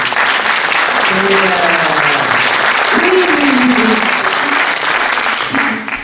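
An audience at a short-film festival awards ceremony applauds loudly and steadily, dense clapping filling the whole stretch while a voice carries over it before the applause tapers off at the end.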